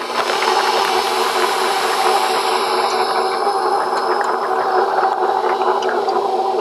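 A stand mixer runs on its stir setting, working cookie dough: a continuous, fairly loud motor drone with steady rubbing and scraping from the beater, no voices.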